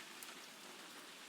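Steady rain falls on a city at night on a winter evening in the video game Dry Drowning, a soft, even hiss of drops on surfaces with no thunder or voices.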